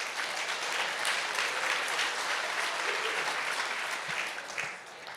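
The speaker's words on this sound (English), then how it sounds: "You should clap for that." Audience clapping at a campaign live stream for a governor candidate, dense and steady for most of the stretch, then thinning out near the end with a few louder claps.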